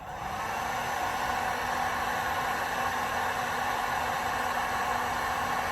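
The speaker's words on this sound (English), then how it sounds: "It's the fan going and the heating element heating up at the same time." A heat gun with its fan and heating element running, blowing hot air like a hair dryer: a steady, even broadband whoosh with a faint hum, constant and close, with no talking.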